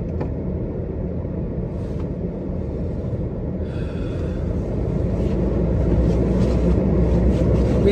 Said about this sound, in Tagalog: Binuksan ko yung heater mga boss kaya medyo maingay.